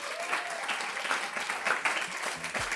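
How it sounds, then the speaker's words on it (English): A crowd at an arts internship celebration claps steadily for a short stretch, with irregular louder claps standing out and a faint voice briefly audible near the end. "One more round of applause for you all."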